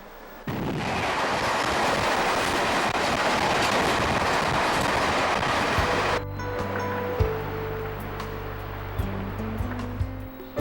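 A travelling train makes a loud, dense rushing rumble for several seconds, then drops to a quieter steady hum with sustained tones and occasional knocks.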